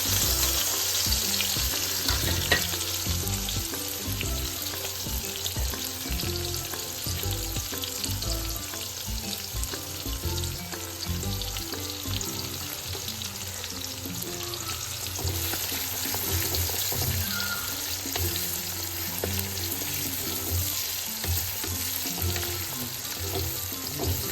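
Onions fry in a pan until lightly browned, giving a steady, close, continuous sizzle with occasional stirring sounds and no talk throughout.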